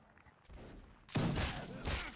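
Musket volley fire in a Napoleonic Wars battle game: a quiet stretch, then a loud ragged burst of many shots at once, with more crackling fire following as the volley rolls on.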